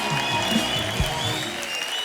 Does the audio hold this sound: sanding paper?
no